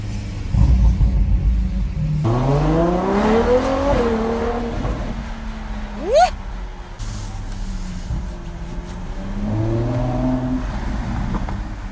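A Ferrari 812 GTS engine climbs and falls through several loud revs and gear changes, heard from inside the car in Monaco with a steady rumbling drone.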